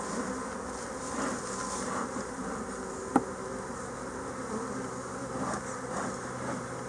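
Honey bees hum steadily around an opened hive, a soft continuous buzz with single insects swelling past now and then and one brief click partway through.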